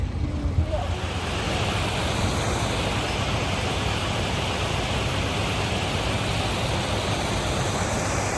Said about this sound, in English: There's fractionally more water coming in than leaving the lock